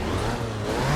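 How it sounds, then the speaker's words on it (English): Peugeot 205 Junior with a 1-litre straight-four making 50 horsepower revs in the BeamNG driving game, a brief, loud, continuous engine drone with rising pitch near the end. "It produces 50 horsepower and it has a custom engine noise."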